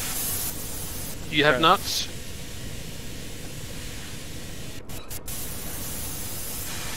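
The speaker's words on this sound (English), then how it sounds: "Oh, I've got a leak." Water leak spraying inside a submarine in the VR game IronWolf VR: a steady broad hiss of spray runs throughout, with a brief voice speaking near the start and a few short clicks later on.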